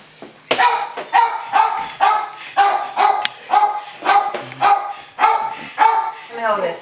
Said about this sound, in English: I swear this dog is always so freaking loud.